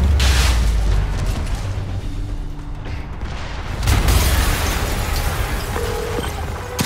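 A deep, rumbling explosion booms loudly in the video game Marvel's Spider-Man Remastered, then a second heavy blast follows a moment later, with roaring debris noise filling the space between.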